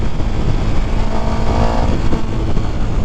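A 2021 KTM 1290 Super Duke R motorcycle rides out in Southern California, its engine a loud, continuous roar blended with heavy wind rush, holding steady throughout at close range.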